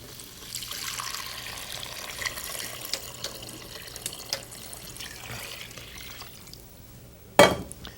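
Water poured into a soup pot of stir-fried Indian soup ingredients, a steady moderate splashing stream running for several seconds, ending in a brief louder splash.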